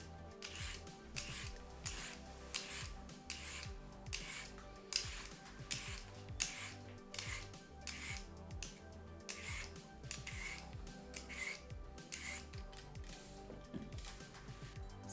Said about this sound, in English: we're going to peel and slice our carrots